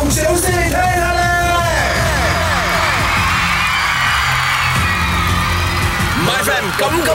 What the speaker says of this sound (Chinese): 俾热烈嘅呼叫同掌声你听下咧